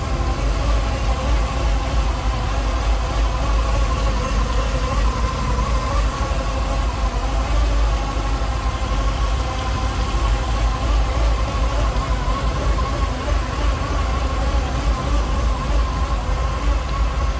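A cammed 351 V8 in a 1960 Ford F-100 pickup idles steadily close by, a deep low rumble with a slightly uneven, lopey beat throughout, no talking.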